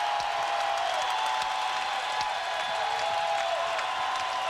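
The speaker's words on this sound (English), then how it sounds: "The crowd trying to do their part." Basketball arena crowd at a 1995 NBA Finals game between the Magic and Rockets, a steady, loud roar with scattered cheers and claps throughout.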